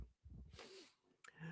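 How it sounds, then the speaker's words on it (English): A single sudden sneeze bursts out near the end of the moment, short and sharp, following a stretch of breathy, rustling noise close to the microphone. "Sneezing on air, my biggest fear."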